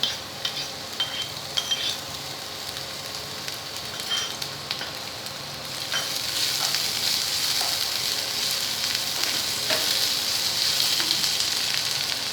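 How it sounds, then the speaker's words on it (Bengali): Ginger-garlic paste frying in oil with potatoes and pointed gourd for an aloo potol dalna: a continuous close sizzle that swells louder about halfway through, with light spatula scrapes over it and no talk. "ভাজা ভাজা হবে এবারে আদা রসুনের কিমাটা দিয়ে দিচ্ছি"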